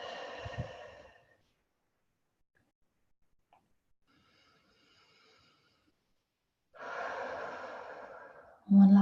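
A person takes slow, deep breaths close by. One long exhale comes first, a near-silent pause follows, then another drawn-out breath.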